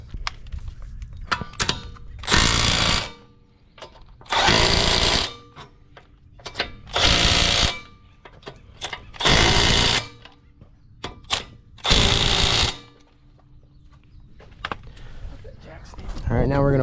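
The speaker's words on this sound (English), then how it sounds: "now we're going to tighten them in a crisscross pattern to the vehicle manufacturer's torque specs" On a Subaru Forester, Ascent, Crosstrek or Impreza brake job, a power tool tightens the wheel nuts in a crisscross pattern, giving five loud, evenly spaced mechanical bursts about half a second to a second each, separated by quieter gaps.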